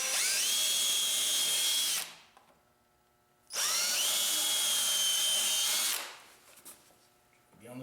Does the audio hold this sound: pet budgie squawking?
no